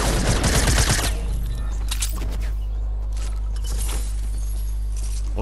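Rapid bursts of gunfire crackle loudly in a shooter game during a duos match, dense volleys at the start, then scattered shots and clattering under a steady low rumble.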